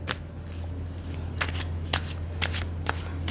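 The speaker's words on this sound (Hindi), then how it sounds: "जब तक मैं कार्ड शफल कर रही हूँ" Tarot cards are shuffled close up, with a few crisp riffling bursts over a steady low hum. No one talks.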